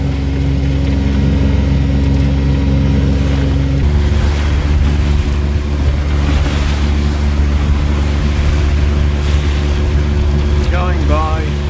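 A boat motors straight into the sea, heading into about 15 knots of breeze in 7 meters of water off the coast between Inskip Point and Double Island Point. A steady loud engine drone and hull wash run under wind noise, with brief squeaks near the end.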